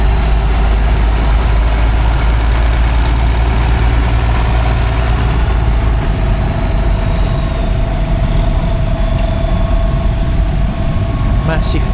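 Tractor engines idling at a tractor parade at the Netley Marsh steam and craft show, among them a German tractor, a loud continuous low rumble with a steady hum throughout.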